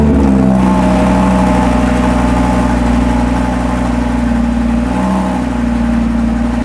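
Five-cylinder Audi RSQ3 engine just after a cold start, holding a loud, steady, close-up idle with a deep even drone and a slight dip in pitch near the end.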